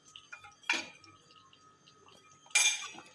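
A metal spoon stirring wheat kheer with dry fruits and cardamom in a pot, giving two distinct clinking scrapes against the vessel with a quiet pause between, close and clear without talk.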